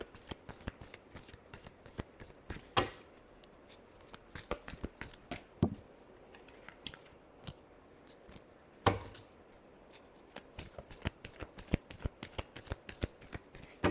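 Tarot cards are shuffled by hand in a dense run of quick, crisp riffling snaps and soft slaps. The sound is close and continuous, with a few louder cracks and no talk over it.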